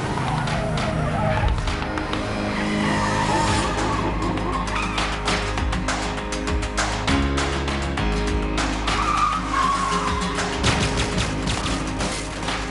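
Cars racing in a film scene, engines roaring continuously with tires squealing and skidding, loud and dense throughout, layered with music.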